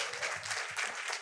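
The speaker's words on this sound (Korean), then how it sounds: "박수 좀 부탁드리겠습니다" Audience applause after a university lecture, a faint, steady patter of clapping heard from a distance, brief and soft.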